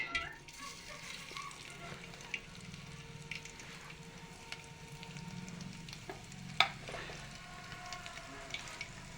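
Ground masala paste frying in hot oil in a pan for a village-style mutton curry, a steady close sizzle with faint stirring clinks and one sharper clatter, no talking.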